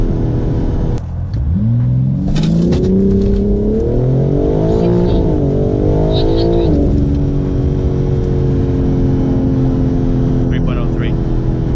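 A BMW M4 G82 with Stage 1 chip tuning accelerates hard, its engine note climbing steeply through the revs in a loud, close roar before easing off. Someone talks over it.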